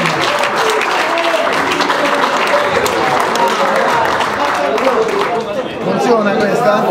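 A crowd at an Italian football club gathering applauds a departing player: sustained, loud clapping mixed with crowd chatter and voices throughout.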